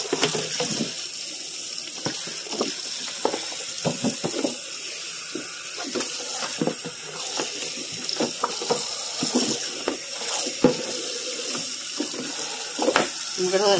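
Tap water runs into a kitchen sink while a cutting board is rinsed, a steady close hiss broken by irregular clatters and knocks as the board is handled.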